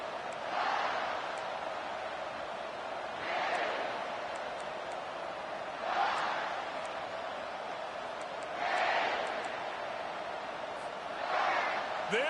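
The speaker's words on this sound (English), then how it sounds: "This crowd, full throat, splitting the eardrums" Stadium crowd in a college football video game roars in repeated swelling waves every few seconds, a steady loud wash with rhythmic surges throughout.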